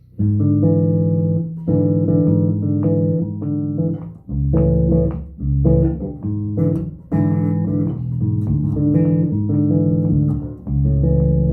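Deep, resonant bass guitar chords, inverted voicings played from the fifth string and then the first, are plucked and strummed repeatedly in several phrases, with brief pauses between them, loud and up close with no voices.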